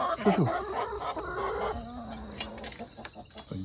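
Farm chickens clucking close by near a doorway, a quick burst of loud clucks followed by scattered softer calls, with a faint voice in the background.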